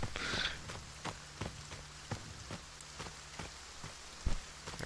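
Rain in the horror video game Friday the 13th: The Game makes a steady hiss, with soft sharp patters and a few dull thumps that sound like footsteps. No one speaks.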